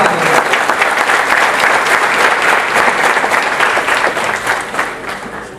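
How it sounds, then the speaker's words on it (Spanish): A crowd at an early-childhood education event in Ibagué applauds the children present, with dense, even clapping that holds strong throughout and a faint murmur underneath. "démosles otro merecido aplauso a estos niños que hoy nos acompañan"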